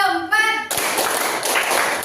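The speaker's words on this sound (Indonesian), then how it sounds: "Oke, tepuk tangan kita semua." A classroom of children claps hands together in a counting clap game, a dense burst of many hands after a short sung voice, fairly loud and close.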